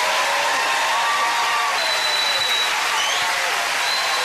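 A television game show studio audience applauds steadily and loudly for the whole stretch, a dense even wash of clapping with no talk over it.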